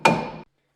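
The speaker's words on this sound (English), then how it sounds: "just going to take a little 3-pound sledge or any hammer you got" A small 3-pound sledgehammer strikes a Honda Civic brake drum once: a sharp metallic bang with a brief ringing tail that stops abruptly.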